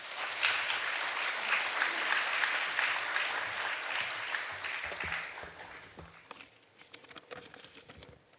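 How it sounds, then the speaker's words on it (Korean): A church congregation claps to welcome the pastor, a dense, steady patter of many hands that gradually thins out and fades into scattered claps and room noise. "우리 목사님 나오실 때 우리 다시 박수로 환영하겠습니다"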